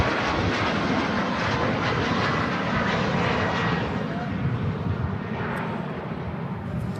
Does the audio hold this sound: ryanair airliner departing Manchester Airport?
yes